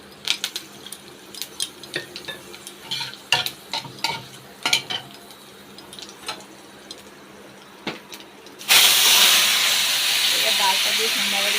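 Spatula clinks and scrapes sound in scattered taps and strokes against a pan frying ginger in oil, then whole fenugreek seeds drop in and set off a sudden loud, sustained hissing sizzle close by.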